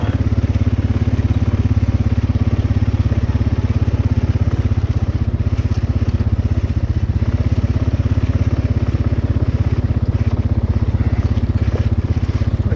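An ATV engine runs on an old ranch road, a constant, close, low droning idle with a steady throb and no other sound over it.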